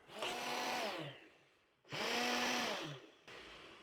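Kitchen blender on a low setting churning cream into butter, two sustained whirring bursts separated by a short pause, fairly close, with a quieter hum resuming at the end.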